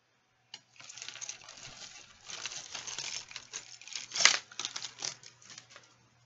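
Close-up rustling and crinkling as junk is shuffled and moved around on a table, uneven bursts with a brief louder clatter near the end.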